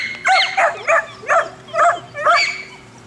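Several dogs at playtime give about six quick whimpering yelps and barks in close succession, nearby and fairly loud, with no talking.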